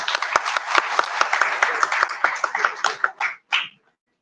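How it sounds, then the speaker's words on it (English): An audience at a university architecture department's 30th anniversary inauguration ceremony claps enthusiastically for a few seconds, then thins out into a few last scattered claps before fading to silence. "I request the guests to have a great clap for our alumni present here."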